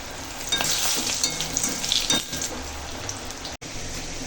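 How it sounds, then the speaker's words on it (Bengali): Khesari lentil dumplings (bori) fry in hot oil, making a crackling, rain-like sizzle with several scraping stirs, close and moderately loud, with one brief dropout near the end and no voices. "তেল গরম হয়ে গেছে বড়িটা ভেজে নেবো"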